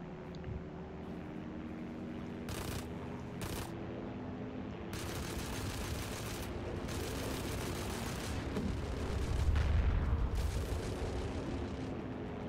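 Enemy aircraft strafing with their guns in Heroes & Generals, a few sharp bursts of fire standing out over a steady engine drone and battlefield rumble, with a heavier swell near the end.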